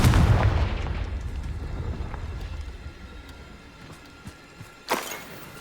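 The Confringo spell in Hogwarts Legacy bursts with a loud booming explosion that rumbles and fades over several seconds, followed later by a smaller sharp blast near the end.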